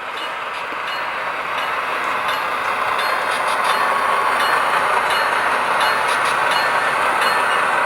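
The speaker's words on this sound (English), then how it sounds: "The switcher coming out of the yard." A model railway switcher locomotive rumbles along steadily out of the yard with a continuous mechanical whir and faint rhythmic clicking of wheels on track.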